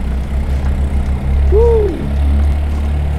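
A Yamaha Gear Ultima Hybrid 125 scooter pulls away at full throttle, its engine a loud, continuous close drone, with a rising whine sweeping upward partway through as it gains speed.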